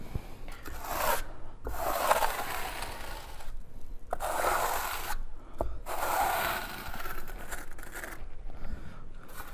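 The flat side of a trowel is pressed and dragged across tile membrane in repeated rasping sweeps, each a few seconds long with short pauses between, close and clear.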